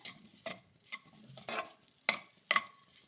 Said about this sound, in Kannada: ಮೊಟ್ಟೆ ಸ್ವಲ್ಪ ಫ್ರೈ ಮಾಡ್ಕೊಳ್ಳೋಣ